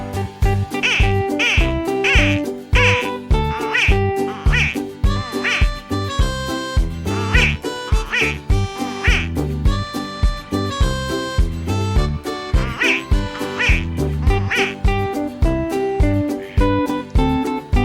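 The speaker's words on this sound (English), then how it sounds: "Duck makes the sound" Duck quacks from a farm-animal sound sequence, rhythmic and repeated over a steady musical backing with a regular beat.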